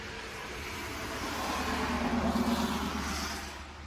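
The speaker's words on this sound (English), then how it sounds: "That was a huge truck." A huge truck passes by outdoors, a low rumbling engine swelling to a peak midway and then fading, heard alone without voices.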